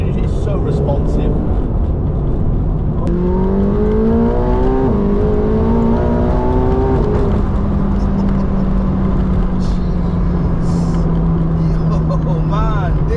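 McLaren 720S supercar engine pulls hard from close inside the cabin, its note climbing steadily through the revs before easing back to a sustained drone, with tire and wind roar underneath.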